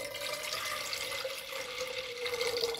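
A glassful of water runs out in a continuous stream into a pot for making tea, a steady close splashing gurgle with a rising tone as the vessel fills, and no talk.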